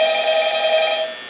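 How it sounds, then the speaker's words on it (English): Telephone ringing in the Five Nights at Freddy's video game, one loud, sustained electronic ring that holds steady and then drops off near the end, heard alone. "We get another phone call."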